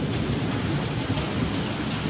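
Steady rain pouring down with a broad, constant rushing hiss and low rumble underneath, no voices, filling the whole moment evenly.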